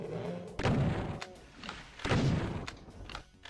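Rocket launcher shots in the game DOOM: two heavy booming blasts about one and a half seconds apart, each with a rumbling explosive tail, mixed with softer game thuds.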